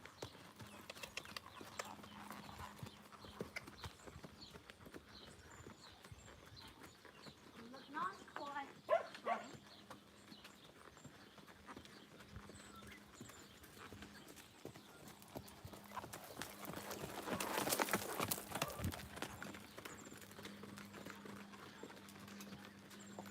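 A horse cantering during a riding session, its hoofbeats faint and rhythmic with quiet background voices.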